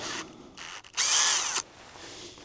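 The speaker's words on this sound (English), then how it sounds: "Drill the hole" A power drill whirs in short bursts, then runs at a higher pitch for about half a second while boring a hole for a Lapierre Flex Clip 2.0 install, close up.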